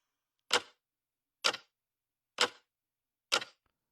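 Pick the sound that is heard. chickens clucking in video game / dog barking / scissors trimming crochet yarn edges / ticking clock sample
ticking clock sample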